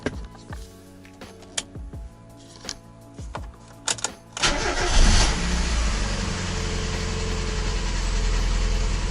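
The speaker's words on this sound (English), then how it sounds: "let's start the car and check for any leaks" Several sharp clicks and clacks, then a Mazda MX-5 NA Miata engine cranks and catches after an oil change, settling into a steady loud idle close by.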